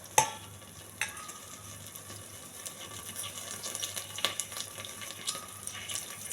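Curry leaves sizzle quietly in ghee with a soft, continuous crackle, broken by a few sharp taps and stirring clinks of a utensil against the pan.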